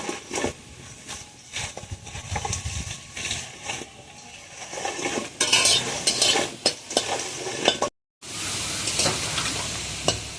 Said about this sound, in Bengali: লঙ্কাগুলো ভালো করে ভেজে নেবো শুকনো খোলায়